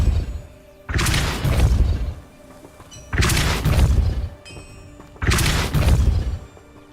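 A spell blast from Hogwarts Legacy hits three times at steady intervals of roughly two seconds, each a loud, full-bodied whoosh and boom with a crashing burst that rings out before fading to quiet game ambience.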